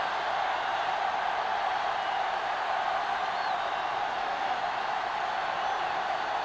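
Steady, broad roar of a football stadium crowd in an NFL video game, a constant wash of distant cheering noise with no distinct peaks.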